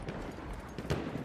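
Horse hooves clip-clop steadily in the video game Battlefield 1, a moderately loud, continuous patter of steps with a brief louder burst near the end over game background noise.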